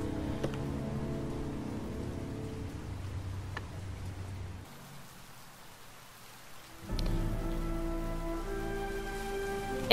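Rain falls steadily in the Heavy Rain video game, a soft continuous patter running beneath tonal game music, which fades into a quieter stretch of rain before the music swells back in.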